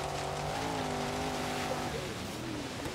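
Nissan Silvia Spec R engine in Forza Horizon 3 revving hard with a rising, steady drone that shifts pitch partway through, loud and close, with a voice talking over it.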